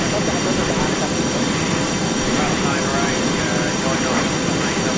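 Boeing 717 jet taking off in the video game Airline Commander, a loud, steady roar of engines filling the sound throughout, with a voice talking over it.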